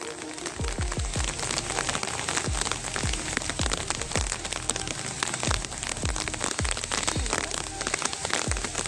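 Steady rain falls hard and continuously, with many distinct drops and splashes spattering across a surface throughout, and no voices heard.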